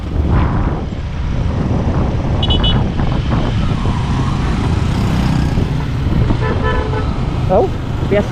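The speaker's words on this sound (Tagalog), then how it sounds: "Naipit yung busina niya." A stuck car horn blares continuously amid road traffic and engine noise, with people talking nearby over it.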